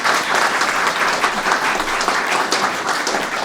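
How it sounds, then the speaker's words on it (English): A room full of people claps enthusiastically, a dense, continuous wash of applause with no voices standing out. "Let's give that a round of applause"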